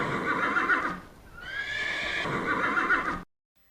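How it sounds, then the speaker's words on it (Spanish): A horse whinnies loudly and clearly twice, with a brief dip between the calls before the sound cuts off to silence. "Ahora escuchemos el sonido del caballo."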